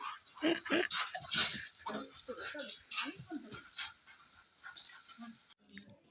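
An excited Labrador whimpers and yips in soft, high, broken bursts throughout, fairly faint and close, while people talk nearby.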